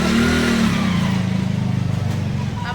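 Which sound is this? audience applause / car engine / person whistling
car engine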